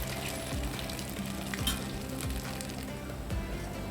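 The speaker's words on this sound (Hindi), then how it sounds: "तो अब हम इसे पलट देते हैं, दूसरे साइड से भी फ्राई कर लेते हैं।" Flipped aloo suji snacks fry in hot oil with a continuous, moderately loud crackling sizzle. Faint bubbling and small pops run through it, with no voices.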